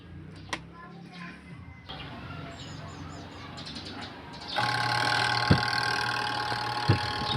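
A twin-tub washing machine's spin dryer motor, which fails to spin, hums with a steady low mechanical drone, growing louder partway through, with a couple of faint knocks and clicks over a background hiss.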